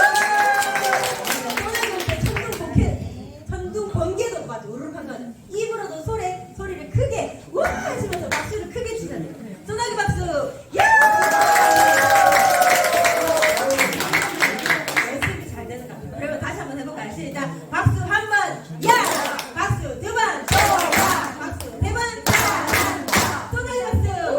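Crowd clapping in a room in scattered bursts that swell into rapid, dense shower applause, mixed with lively talk and laughter throughout.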